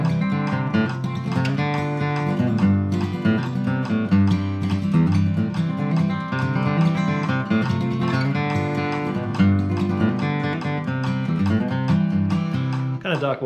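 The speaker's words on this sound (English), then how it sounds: "I do a fun thing with melody strum on guitar." A bluegrass kickoff is played at a fast tempo on guitar using a melody-strum style, with quick picked notes and little hammer-ons on the bass strings. It is close and continuous, played solo without talk.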